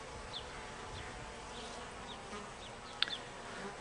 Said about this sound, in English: Pretty gentle bees. These are Carniolans